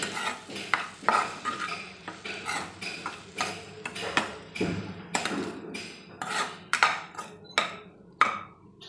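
Potato stuffing being stirred and mixed with salt in a pan: a spoon clinks and scrapes against the metal in a steady rhythm of sharp taps, with soft shuffling of the mash between strokes, close up and with no talking.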